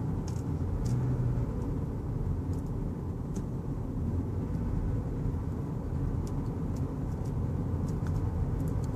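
A 2015 Toyota Camry with a four-cylinder engine cruises along, giving a steady, smooth low rumble of engine and road noise inside the cabin, with no voices.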